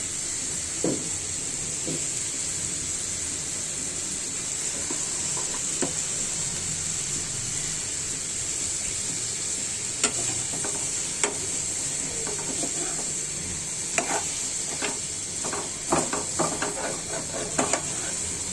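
Chopped potatoes and onions fry with shrimp in a pan, a steady sizzling hiss broken by clusters of sharp spatula scrapes and stirs, growing busier toward the end, no voices.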